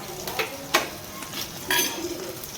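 Food frying in a pan hisses steadily in a steady broadband wash, with a few brief clinks and scrapes standing out above the sizzle; no one talks.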